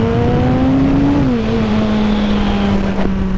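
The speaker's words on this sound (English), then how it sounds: "open the visor as well so you can hear the bike, because I mean this bike sounds awesome" A Kawasaki motorcycle with twin pipes pulls hard in second gear, its loud steady exhaust drone close by, dipping briefly in pitch partway through before holding on.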